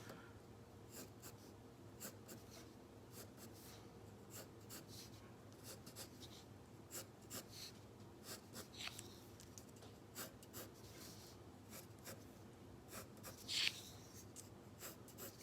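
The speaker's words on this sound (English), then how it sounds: "what I did was I just draw an X lightly with my pencil" Pencil lightly scratching X marks on paper while drawing a covered bridge in one-point perspective, a faint, steady run of short strokes continuing throughout, quiet and close.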